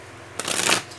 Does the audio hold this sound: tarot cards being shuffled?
yes